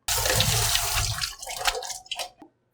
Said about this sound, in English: Now, I just one time rinse with cold water and then you squeeze it softly.